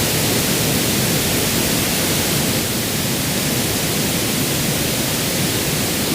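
Steady pink noise test signal used for mixing, a continuous broadband hiss with a fuller low end, held at a constant loud level throughout with no variation and no voices.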